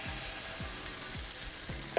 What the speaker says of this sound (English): pop it on the frying pan